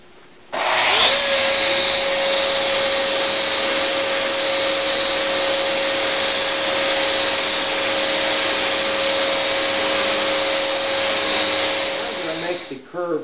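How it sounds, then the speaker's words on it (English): A power sander starts up and runs in a steady, close, loud whine on curved walnut laminate trim for a veneered desk, holding an even pitch throughout before cutting off at the very end. "lay this on top, and it'll hold pretty well while I sand"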